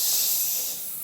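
A child imitates a snake, giving one close, breathy hiss that fades slightly at the end.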